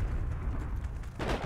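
A Panzerschreck rocket launcher in Heroes & Generals fires with a sharp blast near the end, over a steady low rumble of battlefield noise.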